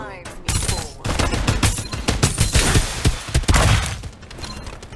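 Rapid automatic gunfire in the shooter game Farlight 84, loud and close, with dense bursts and a few heavier booms running through the whole stretch.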